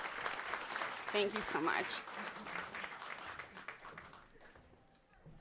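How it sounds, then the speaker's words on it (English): Audience applause at an evening event celebrating regenerative agriculture, a dense wash of clapping that swells early then thins out, with a speaker talking over it throughout. "a round of applause"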